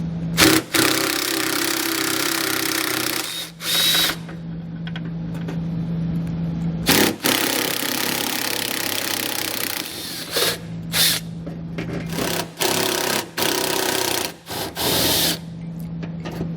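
A ratchet fitted with an extension and small swivel works 8mm bolts loose while a Roadmaster crossbar-style base plate is fitted to a 2014 Ford, giving close, intermittent bursts of clicking and grinding between short pauses.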